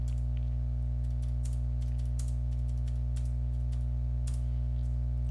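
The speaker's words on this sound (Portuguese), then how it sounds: "Digitar aí, ó." Faint, quick keystrokes on a computer keyboard in irregular bursts, heard over a loud, steady electrical hum.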